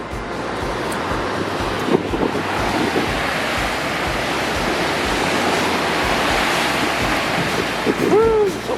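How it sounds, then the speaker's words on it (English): Rough sea waves and strong wind heard from high on a cruise ship deck, a loud continuous roar with gusty microphone buffeting throughout and a brief voice near the end. "That ocean is mean."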